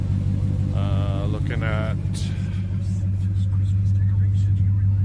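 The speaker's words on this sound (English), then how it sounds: "he's got the truck warming up" A pickup truck engine warming up on a chilly morning idles with a steady low rumble throughout, while a person speaks briefly nearby.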